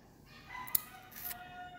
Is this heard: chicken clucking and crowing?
yes